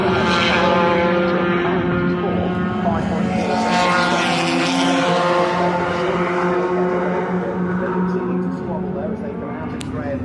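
Pickup trucks racing at Brands Hatch during a race over Easter weekend, a continuous loud engine drone with harmonic whine filling the whole stretch, steady and close, with commentary talk running underneath.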